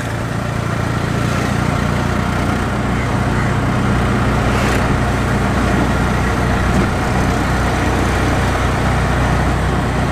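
An auto rickshaw (tuk tuk) engine driving slowly on a road, a steady loud motor drone with road and traffic noise running the whole time.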